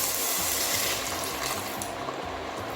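Water poured into a hot pan of frying ragù vegetables gives a loud, steady rushing hiss with a watery bubbling texture that eases slightly toward the end.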